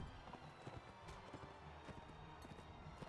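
Horse hooves clip-clop in Mount and Blade Warband, a steady run of close, fairly quiet hoofbeats over a low game-world background.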